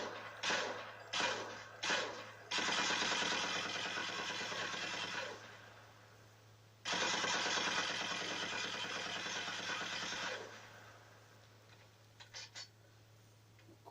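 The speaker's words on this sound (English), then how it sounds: "let's fire off a few rounds" A machine gun in Call of Duty: Modern Warfare 2 fires in sustained bursts: a few short shots, then two long continuous strings of rapid fire separated by a pause, ending with scattered single shots.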